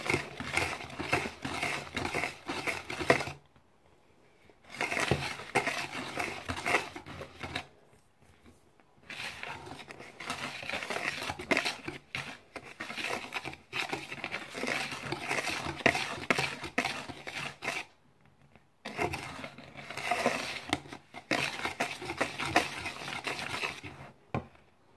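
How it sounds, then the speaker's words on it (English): A whisk stirs dry muffin ingredients in a bowl in quick, rhythmic scratchy bursts, pausing briefly twice, close and fairly quiet. "This is going to demonstrate how you whisk the dry ingredients."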